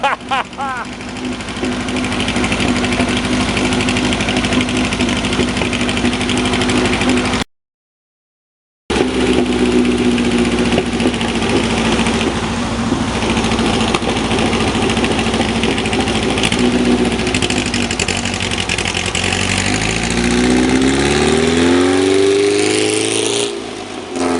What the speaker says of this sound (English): Hear that thing from miles away.